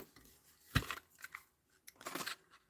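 Scissors trim a stamped paper sheet for a mosaic: a few crisp, close snips, one sharp cut followed later by a short cluster of cutting sounds, in a quiet room.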